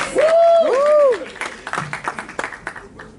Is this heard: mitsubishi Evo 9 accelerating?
no